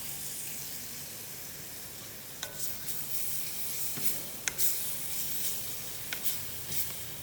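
Minced onion frying in a pan gives a soft, steady sizzle, with a few light scrapes and clinks from stirring popping out now and then. It is quiet and close, with no talking.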